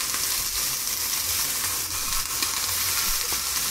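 Scallops searing in a hot pan with a splash of olive oil give off a steady, close, dense sizzle that holds without a break and with no talking over it.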